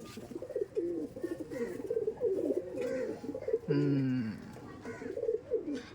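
A pair of pigeons coos in soft, repeated, rolling phrases close by, with a brief louder call near the middle and faint human sounds around them.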